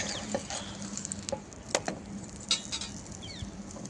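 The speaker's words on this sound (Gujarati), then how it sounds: "હવે આપણે બીજો પણ શેકી લઈશું અને આપણે પરાઠાને ઉમેરીશું" A methi aloo paratha fries in a little oil on a griddle, giving a faint, steady sizzle with light pattering crackles and a few soft ticks close by.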